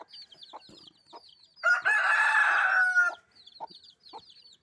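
Soft clucking leads into a loud, drawn-out crow from a red rooster close by, then the quiet clucks return.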